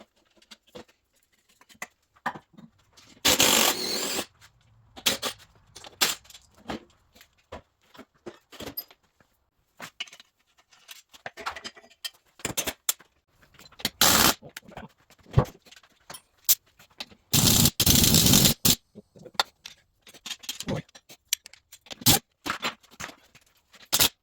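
Cutting tool working a weld nut out of a motorcycle frame for a 2004 Pro Circuit exhaust pipe modification: short, loud broadband bursts of grinding and scraping come in irregular spurts, separated by quieter clicks and gaps.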